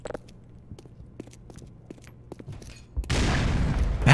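A grenade blast in the video game Black Mesa erupts loud and broadband near the end, preceded by scattered faint gunshots and clicks.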